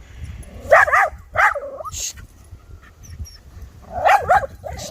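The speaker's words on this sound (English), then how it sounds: "he's still at high alert there, as you can hear by the whimpering" A dog on high alert whimpers and yips in short, high, nasal bursts, close and fairly loud, with a pause in between and faint low background noise.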